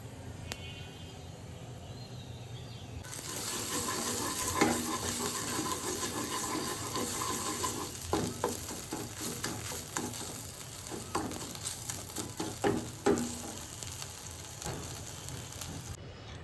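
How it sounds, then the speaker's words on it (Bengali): Panch phoron spices hit hot oil and sizzle loudly and constantly at close range, while a utensil stirs and scrapes through them, and nobody speaks. "প্রথমেই তেলে দিয়ে দিলাম 5 ফোড়ন"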